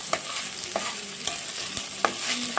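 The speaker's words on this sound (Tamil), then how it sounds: "அடியில் பிடிச்சிடாத மாதிரி இது கொஞ்சம் கிண்டி விட்டுக்கோங்க" Okra fries in a pan while a spoon stirs it, with a constant bright sizzle and regular scraping strokes roughly every half second, close and alone.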